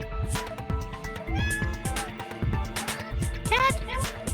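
A human voice imitates a cat with a run of rising and falling meows, close and expressive, over a faint music bed.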